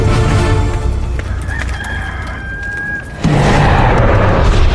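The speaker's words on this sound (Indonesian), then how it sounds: "Sebelum ayam jantan berkokok besok pagi, kau akan menyangkal 3 kali bahwa kau tidak mengenalku." A rooster crows over a loud, dense background of noise and rumble, with one drawn-out call standing out in the middle, set within a Sunday school worship service retelling of the denial story.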